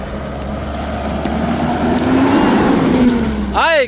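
A Mitsubishi Pajero SUV works off-road, its engine droning loud and steady with the pitch rising slightly midway, and a brief burst of a different sound at the very end.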